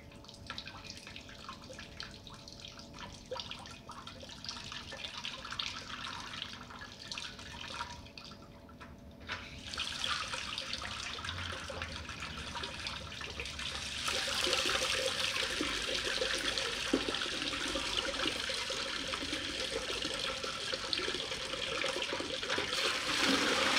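Water runs and splashes while rinsing out a Macpan transfer pump, starting soft and growing into a louder, steady broadband wash after about ten seconds, with no talking.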